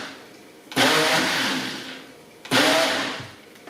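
Two quick pulses of a blender chop a berry smoothie in a smoothie cup, each a loud, close whirring burst that starts abruptly and fades over about a second and a half.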